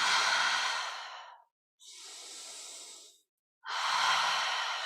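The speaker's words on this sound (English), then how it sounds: "Inhale. Exhale. Inhale. Exhale." Slow guided breathing: three long, close breaths, a loud airy exhale, a softer inhale, then another strong exhale, separated by brief silences.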